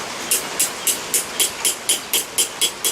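Hammer planishing the surface of a hand-forged metal cabinet handle: about ten sharp, bright strikes in a steady, evenly spaced rhythm, each ringing briefly, close and clear with no talking.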